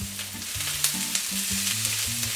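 Garlic Brussels sprouts pan-fry with a continuous crackling sizzle and a few sharp pops over a low, uneven rumble of movement in the pan, with no one talking.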